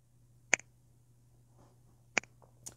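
Two sharp finger snaps by a woman during a hypnosis session in a quiet room, spaced about a second and a half apart, then a fainter click, with a low hum underneath.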